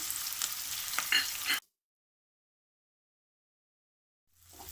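Onions and garlic sizzle loudly in a pan for a village-style dried fish curry, then the sound cuts to silence before faint noise returns at the end.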